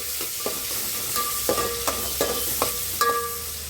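Tomato fries in a pan with a steady soft sizzle, broken by regular metallic clinks and scrapes of a spoon stirring against the pan.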